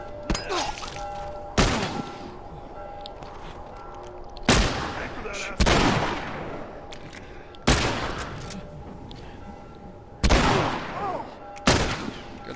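Gunfire in The Last of Us, a series of loud, sharp shots fired in irregular bursts with ringing decay between them, while someone talks over the action.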